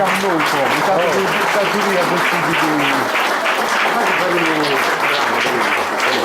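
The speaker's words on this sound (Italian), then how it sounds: "di fare un unico applauso a tutti i poeti che questa sera" An audience at a Sardinian-language poetry evening in Ossi gives the poets a loud, sustained round of applause, with voices speaking over the clapping.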